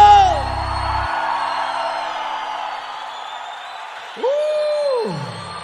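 A live sertanejo show audience yells and cheers as a sustained broad crowd roar under lingering music, dipping slightly, then a single loud whoop or shout rising near the end.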